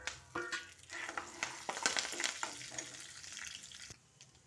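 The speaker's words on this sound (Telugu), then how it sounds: "తాలింపులన్నీ వేగిపోతున్నాయి." Mustard seeds and cumin tempering in hot oil give a quiet, steady sizzle and crackle with no talking.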